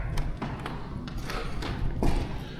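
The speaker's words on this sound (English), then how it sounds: "So we'll just close that door for a sec." A door closes inside an abandoned church, heard as a few dull thuds and taps, the heaviest near the end, against a low indoor hum.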